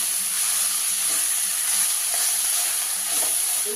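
Cabbage sizzles in a hot pan while being stirred, a steady crackling hiss with faint scraping underneath.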